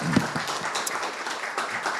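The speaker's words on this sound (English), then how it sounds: "Applause, applause, applause, yes" Audience applause after a conference talk at a cybersecurity meetup, a dense, steady wash of many hands clapping at moderate distance, filling the room without any clear speech.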